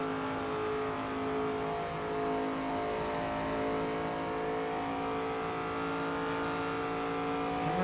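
Race car engine in the NASCAR 25 video game, held near wide open and droning steadily with strong harmonic whine for the whole stretch, loud and close, with faint tire noise and no talk.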